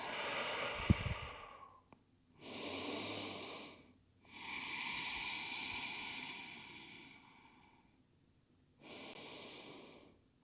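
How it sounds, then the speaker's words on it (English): Slow, deep yoga breaths during a gentle hatha flow: four long, soft inhales and exhales, each rising and fading as a close, airy rush with quiet pauses between, and no talking. "And deep breathing here."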